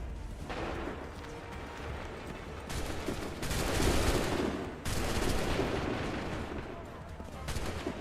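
Musket volleys in Assassin's Creed III crash out as repeated loud, dense bursts of gunfire, several sustained rattling blasts in a row over a rumbling battlefield background.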